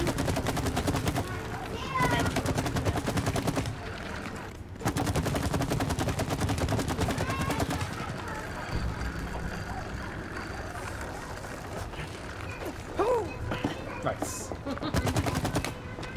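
Rapid bursts of gunfire from the video game It Takes Two rattle in repeated volleys, loud and close, separated by short gaps with some game effects in between.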